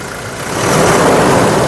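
A 2018/19 Toyota Innova Crysta 2.4 G engine runs with the bonnet open, a loud, steady broadband hum that swells slightly and holds even, with no talk.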